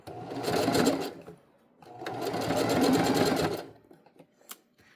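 A sewing machine hems athletic pants, running in two steady bursts of rapid stitching separated by a brief pause while fabric is guided over a seam, then falling quiet with faint handling clicks.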